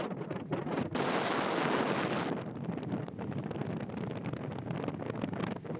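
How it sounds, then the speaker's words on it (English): Strong wind buffets the microphone aboard a boat at El Nido, a loud steady roar that swells to a peak and then eases into a rough, gusty rush. "Wind's very strong."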